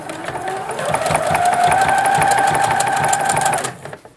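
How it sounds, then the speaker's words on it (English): Sewing machine stitching a coiled clothesline trivet, a loud, close, steady motor whir with a rapid needle clatter that ramps up, holds for several seconds and then stops. "I'm now going to sew in the opposite direction."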